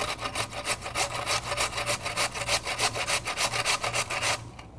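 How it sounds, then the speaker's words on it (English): Potatoes are shredded on the coarsest side of a traditional box grater for latkes, giving a continuous run of close, rhythmic scraping strokes over a low background hum, then a brief tail at the end. "We can use a traditional box grater with the coarsest end."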